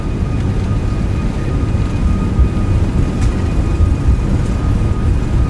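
Airbus A340-600 engines at takeoff power in the X-Plane 12 simulator, a loud steady low roar and rumble with a faint high whine, continuous and unbroken.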